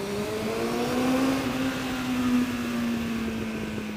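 A Suzuki GSF 650 SA K5 motorcycle engine runs with a steady, close hum whose pitch climbs slightly as the rider blips the throttle, then holds at a smooth, even drone with no voices over it.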